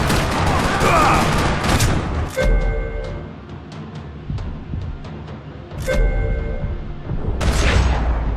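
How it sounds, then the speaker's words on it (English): Gunfire rattles through a parking lot in Max Payne 3, with heavy bursts of shots, some rapid and overlapping, separated by quieter stretches of scattered single reports and echoes. "Another parking lot rattling with gunfire."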